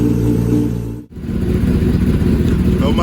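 A 2022 Kawasaki ZX-10R sportbike with an M4 slip-on exhaust and cat delete, revving loudly up close in a garage, with a brief cut in the engine note before it picks back up.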